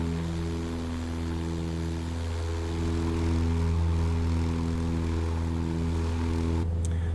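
Propeller engine of a Cessna 172 in Microsoft Flight Simulator during a Caribbean flight, a steady droning hum with strong tonal harmonics, continuous and close throughout with no talk.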